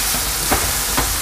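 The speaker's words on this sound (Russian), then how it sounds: "Чуть-чуть перчик обжариваем и добавляем лучок." Pepper and onion frying with honey mushrooms in a pan, a steady broadband sizzle running throughout, with a few faint clicks of stirring near the end.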